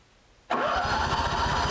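A Honda generator that sat for years with bad fuel cranks briefly and then catches, its engine starting abruptly and settling into a steady, loud running tone.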